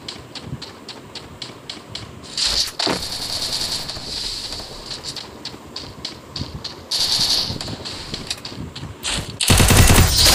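Rapid bursts of automatic gunfire from the Free Fire battle royale mobile game, loud repeated volleys with short pauses and a dense crackling final burst, no talk heard.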